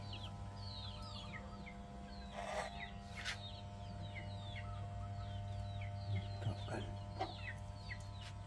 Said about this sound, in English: There's roosters and chickens everywhere.